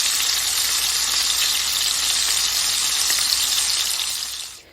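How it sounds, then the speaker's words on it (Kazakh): Meat sizzles loudly in hot oil in a pan, a dense, steady crackle that holds for several seconds before fading at the end, with no voices. "3-4 минуттай қызарғанша әбден қуырып аламыз."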